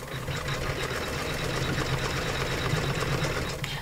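An embroidery machine bastes a design onto fabric held in its hoop, giving a steady, close, rapid mechanical stitching chatter at an even rhythm from start to finish, with no voices.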